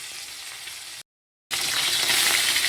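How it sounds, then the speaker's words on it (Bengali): Fish frying in a pan (kadai) gives a steady, bright sizzle that cuts out briefly, then returns louder and fuller, with no voices. "সব মাছ কটাই খুব ভালো করে ভাজা হয়ে গেছে"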